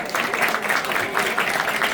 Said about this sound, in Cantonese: 俾啲掌聲啊彭師傅